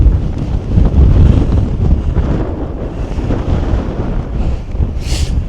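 Strong wind buffets the microphone in loud, rough gusts on the exposed summit of Stybarrow Dodd, a Lake District fell, with no voices heard.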